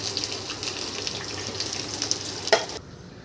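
Four or five garlic cloves fry in hot oil for brinjal kara kulambu, giving a steady crackling sizzle that breaks off abruptly near the end.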